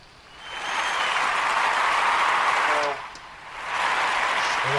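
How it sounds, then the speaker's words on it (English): A recorded applause sound bite plays during a game session, a burst of crowd clapping that swells quickly, holds for a couple of seconds, dips briefly, then returns, fairly loud and without voices. "Everybody, give yourself a round of applause."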